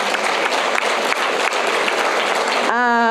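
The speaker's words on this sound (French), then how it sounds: "Vous pouvez applaudir" An audience at an association meeting applauds an award for a club, with sustained dense clapping for most of the stretch before it cuts off, and a voice begins over amplified sound at the end.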